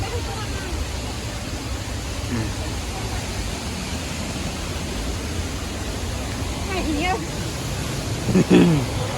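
The Seetharkundu waterfall at Kollengode, Palakkad, Kerala, gives a steady, dense rushing roar from start to finish, with a few faint voice-like chirps rising briefly near the end.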